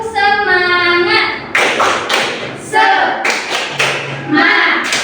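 A primary school class claps out a rhythmic 'tepuk semangat' chant, with loud, grouped claps in bursts between chanted voices, close and energetic.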